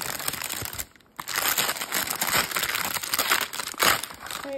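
Biodegradable paper packaging being worked open by hand, giving a close, steady crinkling and crushing rustle with one brief pause near the start and a sharper crackle toward the end.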